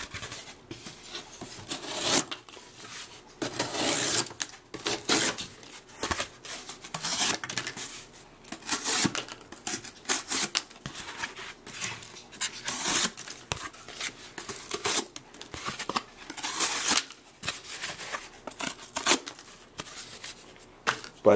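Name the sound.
Kershaw OSO Sweet knife cutting cardboard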